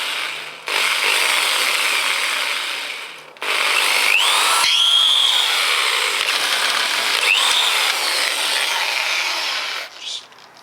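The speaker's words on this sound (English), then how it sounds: "So I'll drill a couple of holes here." A power drill bores holes into scrap metal for a junk bird sculpture, in several bursts of whining and grinding with abrupt starts and stops, a short pause between runs and occasional squealing as the bit bites.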